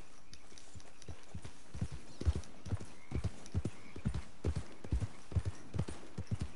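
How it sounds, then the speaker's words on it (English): Horse hooves clip-clop at a steady walking rhythm in Red Dead Redemption 2, close and fairly loud, with an occasional faint whinny and no voices over it. "That's a nice horse."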